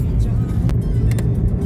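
A single car passes on an almost empty highway near Gurgaon, a close, steady road roar with engine hum heard from inside a vehicle, lasting the whole short moment.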